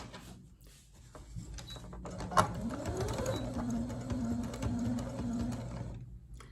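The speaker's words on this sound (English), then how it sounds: "So I back stitch and then we sew and then we'll pivot at the corner again." A sewing machine stitches pillowcase fabric with a steady, close mechanical whirring that runs for several seconds with a slight clunk near the start, and no talk.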